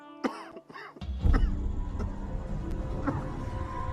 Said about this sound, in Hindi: आपकी खांसी?